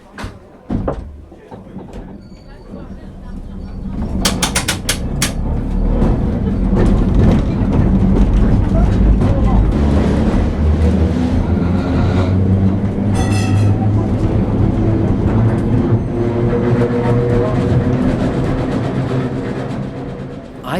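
A heritage tram at Crich Tramway Village rattles and rumbles along its rails, a loud, continuous grinding roar with clanks and bumps, after a brief quiet start with a few knocks.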